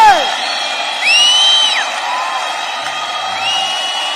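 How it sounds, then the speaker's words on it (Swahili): Churchgoers at an AIPCA church ceremony in Kenya cheer with whoops and rising shouts, a loud crowd roar swelling and fading under amplified voices. "tuendelee kushangilia na kupiga makofi."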